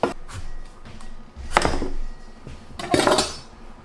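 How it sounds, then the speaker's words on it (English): A lid is set onto a stuffed pumpkin and the pumpkin placed on a baking tray, giving a few close clattering knocks and scrapes of dish and tray spread over a few seconds. "Cover with the lid and put this on a baking tray."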